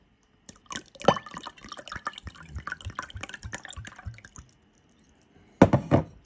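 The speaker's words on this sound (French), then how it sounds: "Et on va mettre l'eau." Water poured into a glass of Capri-Sun tropical multivitamin syrup, a run of close splashing and trickling with drips for several seconds, then a short louder burst of pouring near the end.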